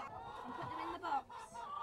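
Hens cluck and murmur close by during egg collecting, a few short soft clucks over quiet farmyard background, with a faint voice mixed in.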